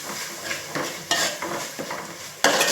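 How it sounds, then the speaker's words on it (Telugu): Ginger garlic paste sizzles in a hot oiled pan while fish curry is cooked at home. A spoon scrapes and stirs the paste in irregular strokes, with a few sharper clinks against the pan over the steady frying hiss. "చూడండి అల్లం వెల్లుల్లి పేస్ట్ వేస్తున్నానండి."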